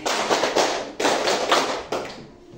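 Rhythmic group clapping routine from a classroom of students, several bursts of sharp hand claps in quick patterns, loud and close with brief pauses between phrases.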